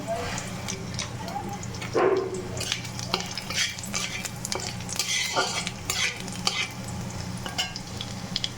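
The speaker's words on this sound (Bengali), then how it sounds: "আমি তেলের মধ্যে রসুন ফোড়ন দিয়ে দিলাম।" Garlic tempered in hot oil in a kadai crackles and sizzles steadily while a utensil stirs and scrapes it in short strokes, close and fairly loud throughout.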